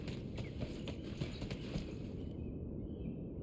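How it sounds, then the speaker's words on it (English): A horse in Elden Ring on PlayStation clip-clops with steady hoofbeats over a dense low rumble of game ambience, the trotting fading out after about two and a half seconds. "There's the new horse."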